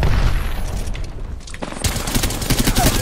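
Grenade blast and surrounding gunfire in the Apex Legends battle royale, a loud burst and rumbling crackle with rapid shots following, loud and close, no talking.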